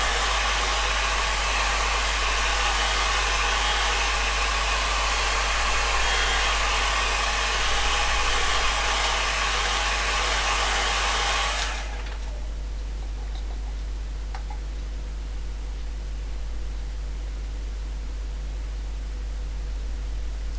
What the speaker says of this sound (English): Just dry it all again with the hairdryer.